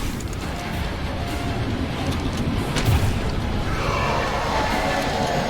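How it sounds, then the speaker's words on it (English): A rocket launcher fires and explodes in the video game Choo-Choo Charles, a loud, sustained roaring blast with a deep booming swell partway through and a rushing tail. "Alright, you're up, rocket launcher."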